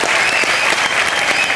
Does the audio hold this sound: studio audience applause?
yes